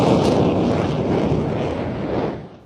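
A JF-17 fighter jet flies and climbs steadily, giving a loud, continuous broadband engine roar that holds strong throughout, then fades slightly at the end, with no voices over it.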